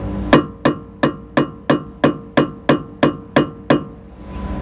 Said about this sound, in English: So don't worry when you're hitting like that, because you cannot break anything.